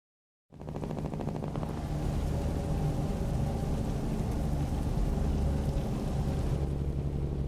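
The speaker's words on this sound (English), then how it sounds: "I'm actually gonna make it rain" Rain in American Truck Simulator switches on after half a second, a steady, dense hiss of rainfall that holds loud and even over a low truck-engine drone, with no talking.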